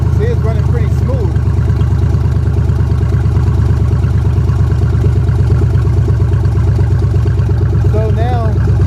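A Ford Maverick with a swapped 302 EFI V8 idles loud and close, its rapid rhythmic rumble holding steady throughout while someone talks over it.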